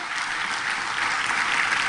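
Steady, dense applause from a church congregation during an evening worship service, filling the space evenly and continuing without a break.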